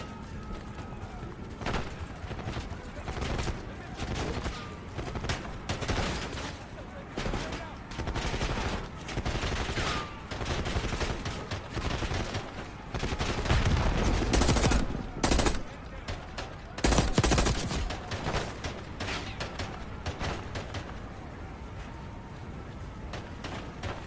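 Gunfire in Call of Duty Black Ops 6, repeated bursts of automatic rifle fire with single shots between them, loud and close, heaviest in the middle, with a voice speaking over parts of it.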